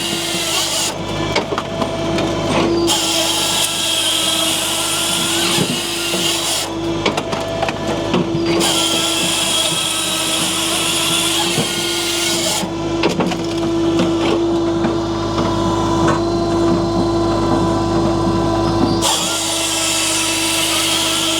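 A Japa 365 firewood processor, driven from a tractor PTO, runs loudly and steadily while cutting wood, with a constant engine drone under repeated saw passes that rise and fall in bursts.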